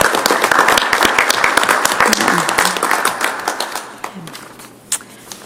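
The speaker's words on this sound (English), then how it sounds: "I think we can applaud our staff here," An audience at a Duluth Public Schools board meeting applauds district staff, starting as a loud, dense round of clapping that thins and fades toward the end, while voices talk over it.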